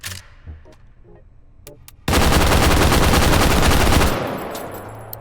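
A PSG-1 rifle in the VR game H3VR fires in a rapid, sustained burst of about two seconds, loud and close. Scattered mechanical clicks and handling noises come before it, and a short echoing tail follows.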